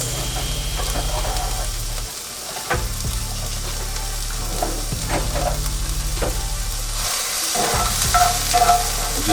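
Onions sizzle and fry in a pan for a sauce, with a loud continuous crackle and repeated scraping stirs and a couple of brief pauses in the sizzle, and no one speaking.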